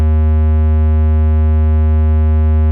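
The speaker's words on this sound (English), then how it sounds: "Here's a sub bass." A synthesized sub bass for a phonk beat holds one steady, deep sustained tone, loud and unchanging throughout, alone with nothing else playing.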